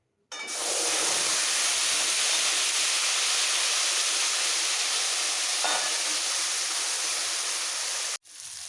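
Ready-made spice paste is added to hot soybean oil where whole white cumin seeds are already frying. A loud, close sizzle bursts in and hisses steadily for about eight seconds, then cuts off briefly near the end.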